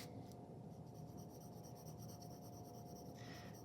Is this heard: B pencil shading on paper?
yes